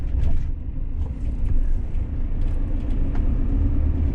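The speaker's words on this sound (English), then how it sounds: "I'm going to drive around the roundabout" A car drives along a road near a village roundabout, giving a steady close low rumble of engine and tyres that swells slightly at times, with no talk.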